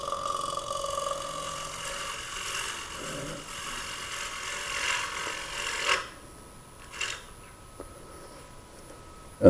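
A two-piece wooden hollow form spins on a lathe while a scraper works it, giving a steady close rasping scrape for about six seconds. It then drops to a quieter hum broken by a few light knocks.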